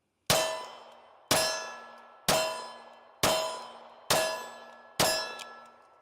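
Six evenly spaced gunshots on a firing range at slow fire, each a sharp, ringing crack with a metallic tail, about one second apart, fairly close and with no voices.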